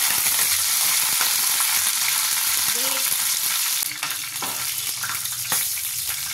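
Curry leaves and whole mustard seeds sizzle and fry in a pan for a dhokla tempering, a steady close hiss with light stirring scrapes and a brief pop near the middle.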